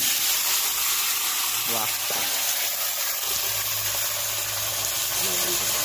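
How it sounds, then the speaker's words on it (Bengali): Potatoes frying in fish oil give a steady, close sizzle throughout, with a brief stir and a voice speaking over it. "এই মাছের তেলে আলুটা ভেজে নেবো।"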